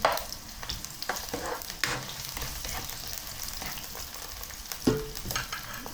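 Onions fry and sizzle in a pan for the Filipino vegetable dish pakbet, a steady close crackle broken by scraping stirs and clinks of a utensil against the pan.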